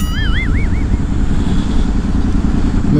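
Triumph Thunderbird Storm motorcycle ridden on the road, its loud steady engine roar and wind rumble dominating throughout, with a faint warbling tone briefly at the start.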